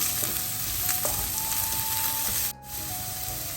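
Green peas frying in a pan for rava upma: a loud close sizzle with stirring and scraping against the pan, continuous with a short dip near the end.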